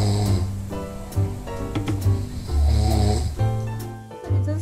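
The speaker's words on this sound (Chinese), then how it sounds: "大家来听听看他们晚上打鼾声音是不是真的会扰人清梦呢" Colleagues snore loudly at night during a sleep test with a Galaxy Watch4, with deep rasping breaths repeating in a slow, irregular rhythm, close and alone.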